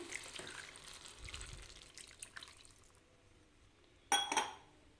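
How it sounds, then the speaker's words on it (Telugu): A glass of water is poured into an eggplant and tomato curry cooking in a pan. The clip opens with soft splashing and trickling, goes quiet, then ends on a brief louder burst of liquid and clinking near the end. "ఒక గ్లాస్ వరకు వాటర్ వేసుకుంటున్నాను"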